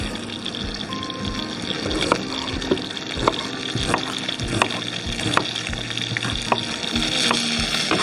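Lamb chops fry in a pan with a steady, close sizzle and crackle, broken by occasional sharp pops and clinks, with no talking over it.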